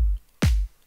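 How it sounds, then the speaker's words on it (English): A single sharp electronic clap hit, layered with a kick in a dance-track drum part, sounds once, bright and snappy over a low thump, following the tail of a preceding bass hit, with nothing else playing. "layered with this clap"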